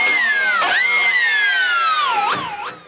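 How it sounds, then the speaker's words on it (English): Electric guitar dive harmonic worked with a tremolo bar, a loud squealing harmonic that swoops and wobbles in pitch, dipping and rising several times before fading, alone without voices. "Starts off with a big dive harmonic."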